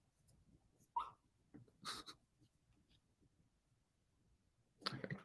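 Small pet dog squeaking and whimpering in its sleep while dreaming, a few short faint squeaks and soft breathy sounds spaced across a quiet indoor room, with a louder burst near the end.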